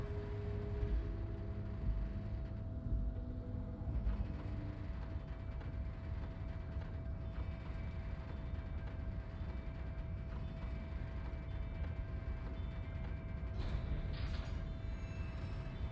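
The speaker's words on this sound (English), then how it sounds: "the crane shifts overhead, moving a massive metal container through the air" Industrial crane in the game Disco Elysium grinding as it hauls a massive metal container overhead, a long continuous mechanical rumble with creaks and clanks, steady and fairly loud.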